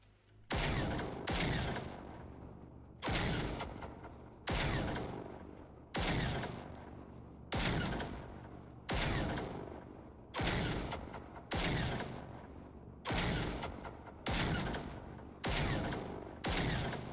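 Sniper rifle quickscope shots in the Generation Zero video game, about a dozen loud sharp reports at an even pace roughly every one and a half seconds, each followed by a short mechanical tail.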